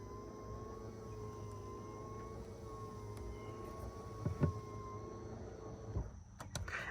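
The power seat motor of a 2017 Nissan Armada Platinum hums steadily with a faint electric whine for several seconds as the seat slowly rises, followed by a few soft clicks and thumps as it stops.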